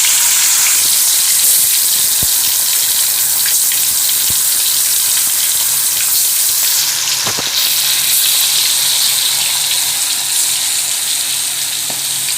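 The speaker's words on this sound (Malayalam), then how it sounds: "ഇനി നമുക്ക് ഇറച്ചി വറുത്ത് കോരാം." Chicken meat frying in hot oil for restaurant-style butter chicken, a loud, dense, continuous sizzle close to the pan with a few faint clicks and no talk.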